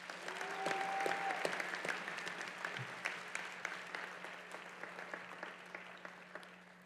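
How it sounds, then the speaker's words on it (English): A graduation audience at a community school claps for the graduating class, quiet, distant-sounding applause with scattered individual claps becoming sparser as it tapers off. "let's give the class of 21 a round of applause."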